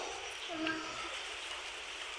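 Soft, steady rain hisses quietly and evenly, with no voices.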